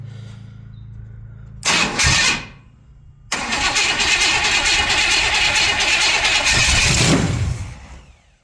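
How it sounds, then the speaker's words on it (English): A 1968 Buick Wildcat engine with a new exhaust cranks briefly, catches, then roars to life loudly and settles into a rough idle before cutting off. "you guys can hopefully hear what this exhaust sounds like."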